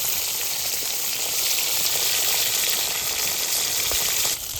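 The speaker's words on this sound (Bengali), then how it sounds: "ভালো করে মাছগুলো লাল লাল করে ভেজে নেবে।" Chital fish pieces frying in hot oil give a steady, bright crackling sizzle that fills the whole clip at close range, dropping slightly just before the end.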